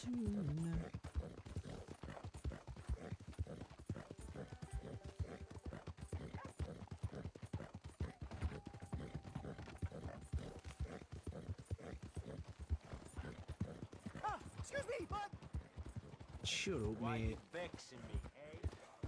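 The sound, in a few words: horses walking by in video game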